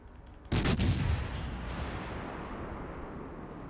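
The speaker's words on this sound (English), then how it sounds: "Going to take another good HE broadside at Duke of York." A battleship's high-explosive broadside fires in a naval combat video game: a sudden loud multi-gun blast, then a long rumbling roar that slowly decays, heard alone without voices.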